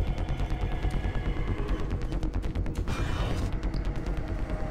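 Rapid gunfire from the video game Doom 3, a dense stream of repeated close, loud shots with a burst of heavier blasts partway through, with no talking.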